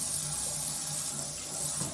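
Hot tap water runs into a spin mop bucket, a steady rushing hiss of filling water heard close and continuous for the whole stretch.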